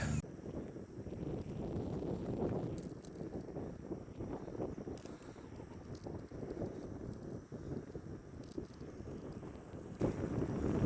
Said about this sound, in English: there's a huge just gust of wind that I'm riding into